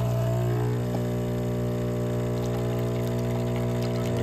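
A Philips 3200 espresso machine pumps water through ground coffee for a double espresso, a steady loud mechanical hum and buzz running continuously with no talk.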